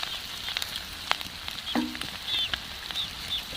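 Wheat flour rotis dropped into a pan of fried eggs sizzle with a steady, close hiss, broken by a few sharp crackles and spatters; no one speaks.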